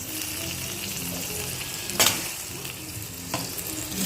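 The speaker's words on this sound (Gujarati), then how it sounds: "અને એને હલાવીને થોડીક વાર થવા દઈશું, મિક્સ થવા દઈશું બધા વેજીટેબલ્સને" Vegetables for veg pulao, onion and capsicum among them, fry in a pan with a soft even sizzle, while a couple of sharp stirring scrapes stand out; fairly quiet and close, no voices.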